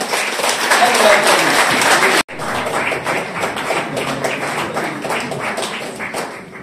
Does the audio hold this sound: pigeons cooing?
no